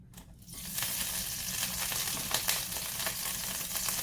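Butter and olive oil melting in a pan on a stove top, a steady close sizzle and crackle that starts up after a brief quiet moment and keeps going evenly, with no talking.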